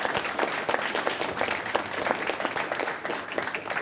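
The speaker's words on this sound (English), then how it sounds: "I want to give a round of applause to both of the candidates for coming and showing up." A debate audience applauds the two candidates in a West Virginia State Senate District Six debate: dense, steady clapping from a room full of people, close and continuous for a few seconds with no voices over it.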